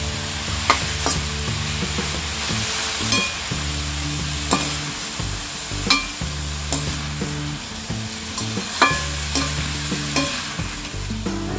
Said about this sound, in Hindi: इसे हम लो फ्लेम में 2 मिनट तक फ्राई करेंगे